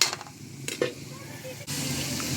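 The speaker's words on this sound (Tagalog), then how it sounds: "Gisa-gisa lang natin konti." Pork sautéing in a pan with fish sauce for a Filipino home-cooked dish, a steady sizzle that swells louder in the second half, with a few spoon scrapes and pan knocks near the start.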